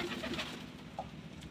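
Pigeons coo softly nearby, a few short, low calls in quick succession that fade into a quiet pause and a faint later note, with no talking.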